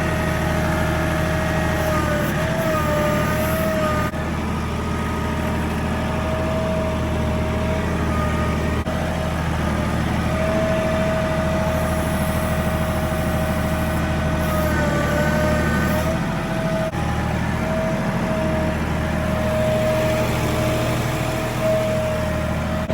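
A 47-horsepower tractor engine runs steadily near a home site, a continuous low rumbling drone with a sustained mid-pitched tone on top, holding even through the whole stretch with no speech.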